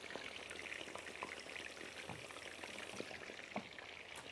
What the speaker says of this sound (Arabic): هوزعهم كده عشان ياخدوا راحتهم في الزيت وياخدوا التسوية الصح.